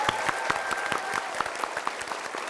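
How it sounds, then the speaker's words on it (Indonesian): A television comedy show's studio audience claps in a brisk, fairly even rhythm, many hands together at moderate loudness, with faint voices mixed in. "Sekali lagi tepuk tangan dong."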